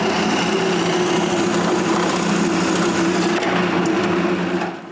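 Power drill boring holes through a piece of 2x10 wood, a loud continuous whining motor hum close by that holds steady and eases off at the end.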